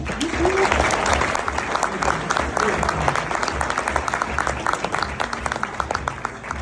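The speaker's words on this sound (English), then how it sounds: "Let's give a big round of applause for Michael Dickerson." Loud, sustained applause from a large technology conference keynote audience, dense clapping filling the whole stretch with a few whoops mixed in.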